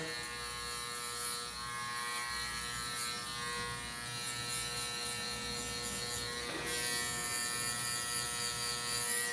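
Electric hair clippers buzz steadily and close up through a boys' bald fade haircut, a continuous hum with slight shifts as the lever is adjusted, growing a little louder near the end; no one speaks.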